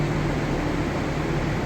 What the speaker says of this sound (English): the new master fan on, 36-inch shop fan.